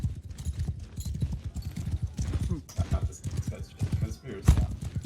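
Horse hooves from Mount & Blade 2: Bannerlord multiplayer battle clop in a quick, steady rhythm, close and loud, amid busy battle noise.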